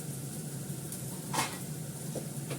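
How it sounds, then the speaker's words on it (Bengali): Cauliflower, carrot and other vegetables frying in a small amount of white oil in a pan for chow mein: a low, steady hiss with a brief clatter of a utensil partway through. "একদম কম তেলে ভাজলাম"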